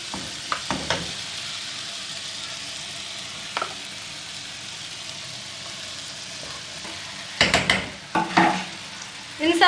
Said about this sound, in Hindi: अब मैं इसे साथ साथ मिक्स भी कर रही हूँ और इस तरह से थोड़ा मैश भी कर रही हूँ